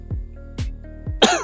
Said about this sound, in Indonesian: Please, jangan batuk ya.